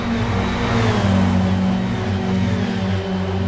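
Several Formula America race car engines roar together at high revs at Watkins Glen, a loud, sustained droning whine with shifting tones as the cars accelerate close by toward a downhill hairpin.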